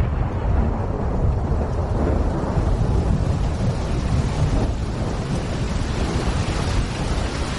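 Steady heavy rain roars without a break in the 2011 film Swamp Shark, a deep rumbling underneath like thunder rolling through the downpour.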